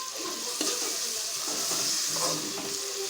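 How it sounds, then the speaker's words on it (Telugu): Ivy gourd and tomato curry cooking in a pan, a faint steady sizzle and hiss with occasional soft scrapes of a spoon stirring through the pieces. "దీంట్లో వేసుకొని ఒకసారి కలుపుకున్నామండి"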